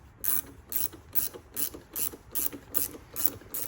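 Wrench ratchet clicking in steady bursts, about ten evenly spaced clicks, while loosening a strut nut on a Fiat 124 Spider Abarth with a 14mm wrench and 5mm Allen key; close and clear with no talk.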